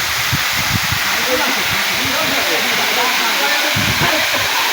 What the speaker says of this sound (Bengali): দেখেন কত সুন্দর ঝর্ণা